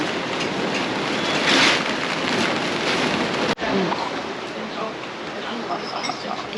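Strong wind on a Himalayan trekking trail in the Everest Khumbu region, in rain, roars as a loud, steady, broadband rush close to the microphone, with gusty swells and one brief sharp dropout partway through.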